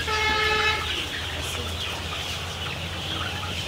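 A flock of 2,250 chickens at a farmhouse in Bangladesh keeps up a dense, continuous chorus of clucking and squawking, loud and close with steady background noise.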